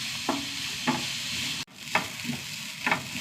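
Onions and curry leaves sauté in a pan, a continuous hiss of frying broken by a few spatula stirs, close and clear with no talking.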